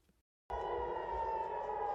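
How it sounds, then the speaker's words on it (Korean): Air raid siren sounding across a city during Iranian missile attacks on Israel, starting abruptly after a brief silence and holding a steady, loud wailing tone, heard from a distance with no voices. "도심 전역에 공습경보 사이렌이 울려 퍼지고"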